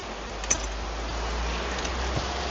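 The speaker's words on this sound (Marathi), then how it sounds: "कंटिन्युअस पाऊस आहे कंटिन्युअस" Heavy rain falls continuously in a village, a dense even hiss with a couple of sharper drop impacts, close and steady throughout.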